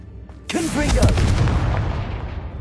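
A Confringo blasting spell explodes in a PS4 video game: a sudden loud boom bursts in after a brief quiet lead-in, then a dense rumbling roar with tonal flickers that slowly fades.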